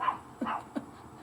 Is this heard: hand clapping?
no